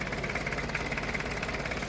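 A diesel engine that had been hard to start runs steadily after starting, a close, even rumble with a rapid knocking pulse and no voices.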